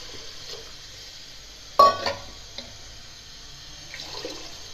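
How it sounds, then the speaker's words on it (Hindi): Water poured into a pot of fried lentils while making daal, a short splashing burst followed by faint sloshing and small clinks in a quiet kitchen. "अब इसमें डालना है पानी।"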